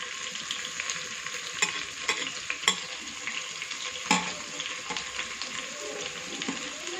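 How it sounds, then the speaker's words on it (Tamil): Vegetables and fresh peas stir-fried together in a pan for samba rava vegetable upma, a steady close sizzle broken by a few sharp scrapes and clicks of the spoon. "எல்லாமே ஒன்றா தான் ஃப்ரை பண்ண போகிறோம்."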